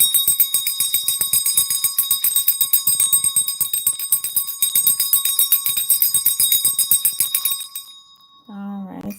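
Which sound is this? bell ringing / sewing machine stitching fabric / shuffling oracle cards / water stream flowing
bell ringing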